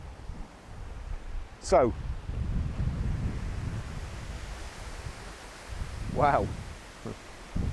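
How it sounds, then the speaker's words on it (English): Breezy outdoor wind buffeting a microphone beside a Volkswagen Caddy van, a steady low rumbling roar with gusts, while someone speaks briefly over it. "It's a bit breezy today."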